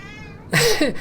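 A pet cat lets out a single loud, close meow lasting about half a second, after a quiet moment.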